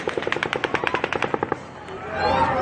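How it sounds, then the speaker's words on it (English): A volley of automatic gunfire, roughly fifteen rapid evenly spaced shots over about a second and a half, loud and close, then a noisy commotion as the burst ends. "the 7th volley of automatic gunfire begins"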